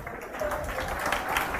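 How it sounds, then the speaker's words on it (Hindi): An audience in a classroom gives a brief burst of dense clapping, a short wash of applause that fills the room at moderate loudness. "ताली बजाने से फल नहीं मिलेगा।"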